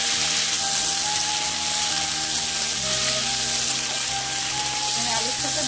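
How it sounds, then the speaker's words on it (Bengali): Yardlong beans and potatoes fry in a pan with a loud, continuous sizzle that holds steady throughout, with no voices over it. "আমি বরবটি কটা ভালো করে ভাজা ভাজা করে দিচ্ছি।"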